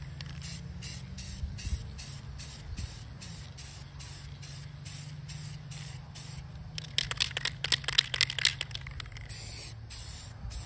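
Red paint is sprayed onto the plastic engine cover of a 2024 Corvette C8, a steady close aerosol hiss with rapid pulsed bursts near the end over a low background hum.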